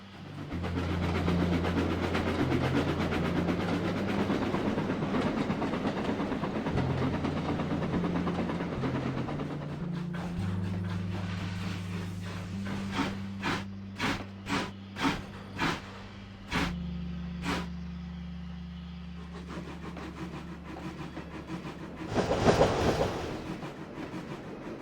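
A passenger train rolls steadily along the rails, a continuous low rumble with a rhythmic series of sharp clacks from the wheels midway and a louder swell near the end, no talking.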